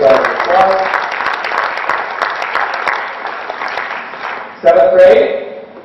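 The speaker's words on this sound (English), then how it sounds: "Give them a nice round of applause." An audience gives sustained applause for sixth graders at a school ceremony, steady clapping that dips briefly and swells again near the end.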